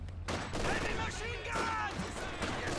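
Maxim machine gun fire in the World War II strategy game Company of Heroes 2, a steady dense rattle of automatic gunfire mixed with other battle noise, running continuously under a commentator's voice.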